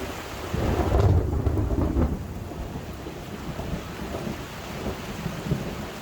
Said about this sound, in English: There's not a lot of lightning and thunder in this one though